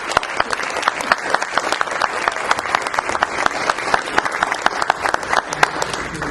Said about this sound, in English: let's give a big round of applause to these 4 candidates who did take the time to be here.